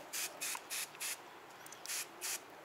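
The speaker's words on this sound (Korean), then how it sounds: "제가 퐁퐁을 좀 뿌려야 되나요? 좀 뿌려 보고 할게요." Dish soap sprayed onto an electric scooter tire during puncture repair and inner tube replacement: six short, crisp hissing spray bursts in a loose rhythm, close and fairly quiet, with no talking.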